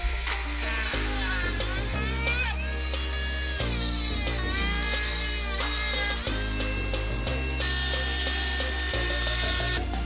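A power tool cuts a small bar off a Traxxas XMaxx 8s RC truck chassis, running loud and steady the whole time with a whining pitch that wavers and shifts as it bites into the part.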